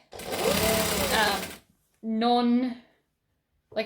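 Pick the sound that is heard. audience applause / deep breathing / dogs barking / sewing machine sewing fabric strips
sewing machine sewing fabric strips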